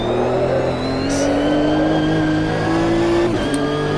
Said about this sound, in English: Even here, the car's already good accelerating, right?